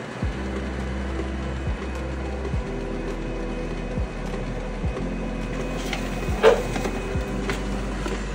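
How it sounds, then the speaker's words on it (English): A school printer running indoors, with a low steady mechanical hum and drone and a few soft clicks and knocks spread through it. No voices. "This is the printer."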